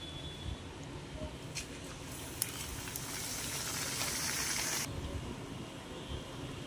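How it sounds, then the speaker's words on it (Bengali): Luchi frying in hot oil in a wok, a steady close sizzle that swells louder midway, then eases back to a softer bubbling. "এবারে আমি তেল গরম হয়ে গেলে লুচিগুলি ভেজে নেব।"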